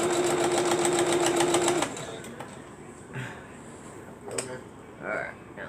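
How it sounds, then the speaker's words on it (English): A sewing machine chatters rapidly as it stitches a butterfly wall hanger, then stops, leaving soft handling noises and a few brief rustles. "now let's see if we can't sew it down"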